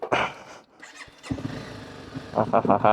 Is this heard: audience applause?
no